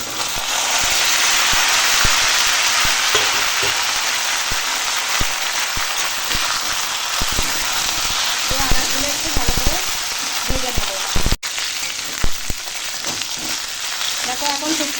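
Loud, continuous sizzling of bitter gourd and other vegetables frying in a pan, with scattered spatters and occasional clicks of stirring.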